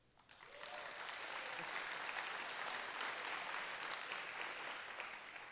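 Conference audience applauding as a show-of-hands vote for Singapore, a dense sustained clapping from a large crowd that swells quickly and holds steady throughout.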